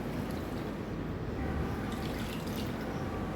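Whey drains and trickles steadily as homemade mozzarella curds are strained, a soft continuous pouring close by with no talking.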